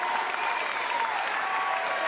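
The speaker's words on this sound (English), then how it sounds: "And Jake Craps gets a standing ovation" A college wrestling crowd at the Hearn Center gives a standing ovation in a Missouri vs Utah Valley NCAA dual meet, a dense, steady wash of clapping filling the arena with no pauses.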